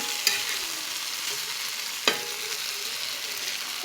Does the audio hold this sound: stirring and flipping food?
yes